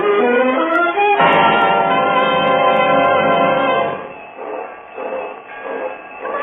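A departing train in an old radio drama sound effect, loud and rumbling with a whistle-like tone at first, chugging steadily before fading to a softer rhythmic clatter.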